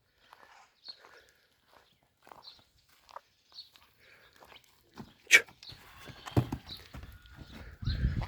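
A horse walks outdoors, its hooves giving sparse, uneven clip-clop taps at moderate distance, with one sharp knock midway and a rougher rustling and thumping toward the end.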